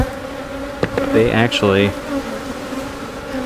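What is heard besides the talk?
honeybee colony buzzing while hive is smoked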